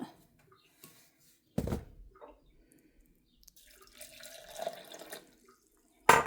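Water and salt poured into soaked barley and urad dal ahead of grinding dosa batter, heard as a short splash, a spell of trickling pouring with faint clinks, then a loud final splash; no talking.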